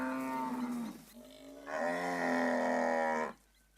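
Cattle low in long, loud moos, one call followed by a second, longer one, up close with no talk, during the lean late-winter season when grasslands have dried out.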